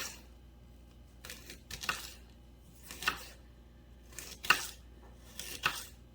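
Fennel bulb being cut into thin slices with a knife, a series of about five crisp crunchy slicing strokes spaced irregularly, close and quiet.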